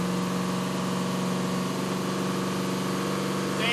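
A VK56-engined Hakosuka Skyline running on a dyno, a steady, loud mechanical drone with a sustained low hum throughout as the RPM climbs, with no voices.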